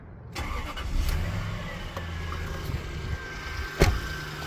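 A 1992 Toyota Celsior with a 4-litre 1UZ V8 cranks briefly, catches and settles into a smooth, quiet idle, heard close with a sharp click near the end.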